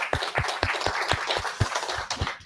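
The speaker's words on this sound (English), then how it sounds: "round of applause for David." A small audience claps after a talk on small area statistical geographies, with a brief burst of moderately close, irregular hand claps filling the short moment.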